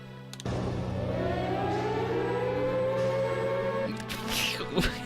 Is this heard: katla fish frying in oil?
no